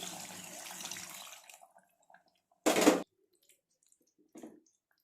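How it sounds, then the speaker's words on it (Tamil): Coconut milk poured into a pan of chicken curry, a short liquid splash alone in a quiet kitchen after a stretch of faint stirring, with a couple of soft drips and clinks following. "அரை மூடி தேங்காவை அரைச்சி பாலாக எடுத்து வச்சுருக்கேன். இப்போ அதை சேர்த்துக்கலாம்."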